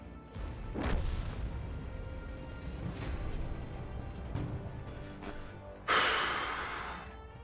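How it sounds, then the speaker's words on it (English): AMX 13 90 light tank firing its cannon in a tank battle game, several dull booms spread through the clip with the last one a sharp, loud blast near the end, over a low engine rumble. "Double shots back to back in that tank"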